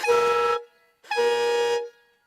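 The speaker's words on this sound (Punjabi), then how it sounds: "ਹਾਰਨ ਵੱਜਦੇ ਆ ਇਹ ਮੈਂ ਇੱਕ ਵਾਰੀ ਤੁਹਾਨੂੰ ਫੇਰ ਮਾਰ ਕੇ ਵਿਖਾ ਦੇਣਾ" A homemade horn fitted to a tractor sounds two loud, close, steady blasts, each about half a second to a second long, with a short gap between them and no voices.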